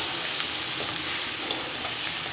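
Potato and paneer filling frying in a pan for stuffed parathas, giving a steady close sizzle with faint stirring scrapes throughout and no talking.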